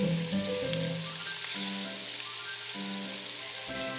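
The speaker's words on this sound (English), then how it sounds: "I'm just going to continue frying until I get the perfect golden brown color." Chicken pieces frying in hot oil, giving a steady, fairly quiet crackling sizzle that continues unbroken throughout with no talking.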